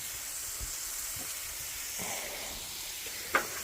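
Pork sizzling in a hot cast steel pan gives a faint, steady hiss with a few soft pops and one sharper crackle near the end.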